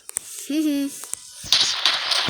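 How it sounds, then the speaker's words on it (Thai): Gunfire in a tower video game: a few sharp, isolated shots, then a denser burst of crackling fire, with a voice speaking over part of it. "ยิงปืนไป"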